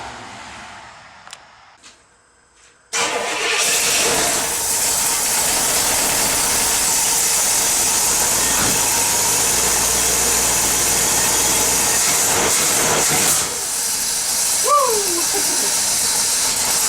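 A car engine fitted with a freshly swapped Edelbrock intake and Demon carburetor starts up after a short near-silent pause and runs steadily and loudly with a broad hissing roar, then drops back toward a lower idle near the end.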